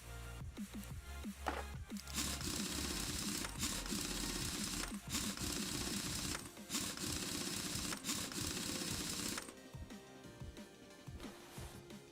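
Car parts being bolted back together in the Car Mechanic Simulator video game make a dense, continuous run of quick mechanical clicks and ratchet-like ticks. The clicking runs loud and close for most of the clip, then thins out near the end.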